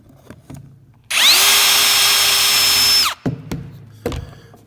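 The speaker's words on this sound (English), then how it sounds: "That's drilling holes." A power drill bores a countersunk screw hole into wood, whining loudly at close range for about two seconds, with a few knocks and handling thuds before and after.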